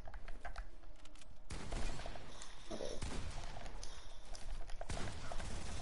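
Shotgun and rifle fire in the video game Fortnite, played in creative mode, crack out as repeated loud blasts over a dense, busy background of game noise.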